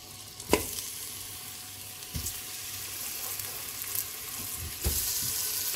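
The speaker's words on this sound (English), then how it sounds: "In a pressure cooker, we start with the olive oil and we sear our meat." Meat sears in olive oil in a pressure cooker with a soft, steady sizzle, quieter than a full fry, broken by a few sharp knocks or clatters from the pot. No voices are heard.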